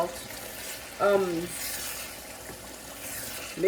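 Jollof rice frying in oil in a pot, stirred with a utensil: a soft steady sizzle with a few brief scraping strokes, close and moderately loud.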